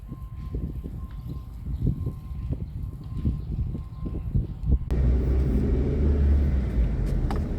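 A 1997 Suzuki Baleno 1.6 GLX saloon drives with a low engine and road rumble, bumpy at first and then a steadier, louder drone of cabin and tyre noise; no speech.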